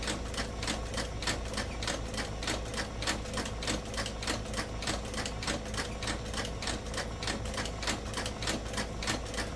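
Steady rapid clicking punctuates hand sewing along the edge of a leather belt tooled with acorns and oak leaves, loud and continuous with no talking.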